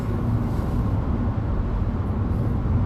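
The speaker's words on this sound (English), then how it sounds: "just trying to get a gauge of the interior noise." Steady broadband road and tire rumble inside a 2018 Nissan Kicks SR FWD cruising on the highway, a constant low drone with no talk.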